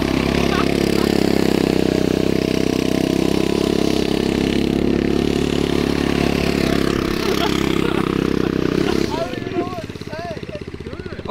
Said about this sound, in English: Oh, you can hear the turbo.